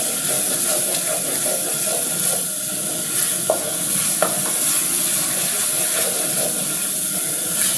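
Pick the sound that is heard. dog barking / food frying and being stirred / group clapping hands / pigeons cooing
food frying and being stirred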